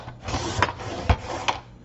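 A paper trimmer blade slices through thick Stampin' Up card in a few quick scraping strokes, each ending in a short crisp snap.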